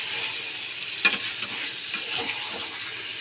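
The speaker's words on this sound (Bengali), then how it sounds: "আর একটু কষাই, তারপরে প্রেসারে দিয়ে দেব।" Mutton being stir-fried in spices in a pan, a steady soft sizzle with a sharp clatter of stirring near the start and a few lighter scrapes after, close and moderately loud, no talking.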